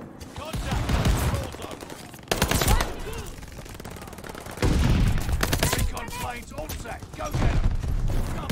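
H4 Blixen submachine gun fire in the shooter game Call of Duty: Vanguard, loud rapid automatic bursts repeating in close succession while a player talks over them.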